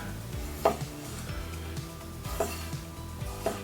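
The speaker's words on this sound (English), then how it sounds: "Let's go ahead and do some slicing." A Mercer Renaissance Santoku knife slices through food on a cutting board, giving three quiet, separate cutting strokes spread across a soft kitchen background.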